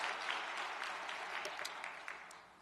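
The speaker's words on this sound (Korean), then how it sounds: "모든 분들을 위해서 감사와 격려의 박수를 보내십시다." A church congregation at a worship service gives warm applause, a dense, even patter of many hands with a few sharper claps standing out, soft and somewhat distant, tapering slightly toward the end.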